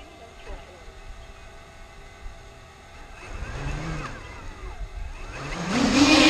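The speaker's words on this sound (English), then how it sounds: "Engines enabled." Electric motors of a 5 kg hybrid stretch Wishbone RC aircraft idling at minimum throttle, a steady mid-pitched whir that swells louder toward the end, with a voice talking over it.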